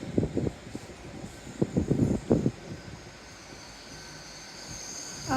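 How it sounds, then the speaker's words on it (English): A train pulls into a rainy station, with a rumbling low roll and a few clattering wheel bursts early on, then a steady hum that fades into the background. "And here's the train they've been waiting for over there for so long."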